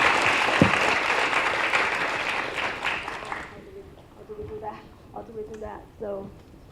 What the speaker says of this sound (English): let's give Professor Newman another round of applause